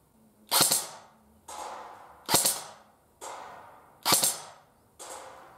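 An ASR 104 airsoft rifle fires clear bursts, three sharp loud cracks about 1.7 seconds apart, each followed by a quieter echoing report, close and alone with no talk.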